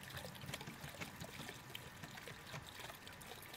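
Water streams steadily from a busted bathroom faucet in The Crooked Man video game, a continuous hissing trickle that stays fairly quiet and unbroken throughout.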